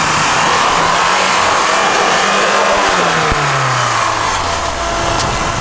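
A car engine on mud-terrain tires revs hard and continuously in winter, a loud sustained roar with rising and falling pitch sweeps as the throttle is held down, close by and alone.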